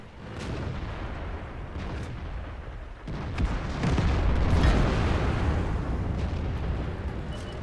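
Tank cannon fire and rumbling battle noise in World of Tanks, a steady booming wash with sharp impacts, swelling louder partway through and staying dense to the end, with no talk.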